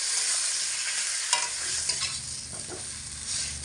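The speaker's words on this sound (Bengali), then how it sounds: "লো টু মিডিয়াম আঁচে রেখে মিনিট 3 সময় ধরে বেগুনগুলোকে এইভাবে অনবরত নাড়াচাড়া করে ভেজে নিয়েছি।" Eggplant pieces fry in a pan over low to medium heat while being stirred steadily, a constant loud sizzle broken by a few scraping clicks of the spatula, with no talking.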